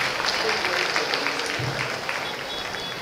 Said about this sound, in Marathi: त्यांच्यासाठी आपण जोरदार टाळ्या वाजवून त्यांचं अभिनंदन करावं.